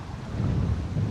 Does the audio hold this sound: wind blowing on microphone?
yes